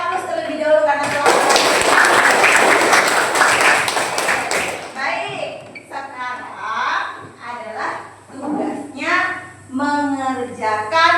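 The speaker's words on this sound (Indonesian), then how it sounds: "Untuk semuanya kita beri aplaus terlebih dahulu" Children in an Indonesian classroom break into loud, dense applause for a few seconds, and a voice then carries on talking over quiet background noise.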